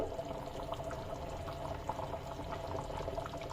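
Village-style chicken curry simmers in a clay pot, giving a soft, continuous bubbling boil that stays fairly faint and steady throughout, with no voices.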